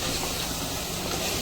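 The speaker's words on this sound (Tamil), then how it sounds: "இந்த எண்ணெயில் இந்த கத்திரிக்காயையும் போட்டு நல்லா கொஞ்சம் வதங்க விடுங்க" Brinjal sautés in hot oil, giving a loud, steady, broadband hiss that fills the whole moment without a break.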